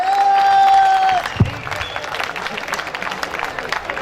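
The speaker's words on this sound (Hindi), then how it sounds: "पूरी शक्ति के साथ ताली बजाकर बताइए" An audience at a public welcome event in Bhilwara claps together, starting just after a sustained held tone ends, then a steady, moderately loud crackle of applause with faint voices mixed in.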